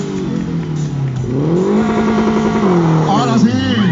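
A rally car launches from the start line at the Huancayo rally, its engine rising in a loud, climbing rev as it pulls away, heard close and partly under talk from nearby onlookers.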